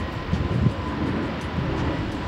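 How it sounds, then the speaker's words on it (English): Airplane engine roar during takeoff, a steady broadband rumble heard from inside or near the aircraft, continuous and moderately loud with no talk. "That's from the plane taking off."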